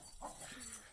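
A single short, high yelp from a dog as it falls rises briefly over faint background noise, quick and sharp.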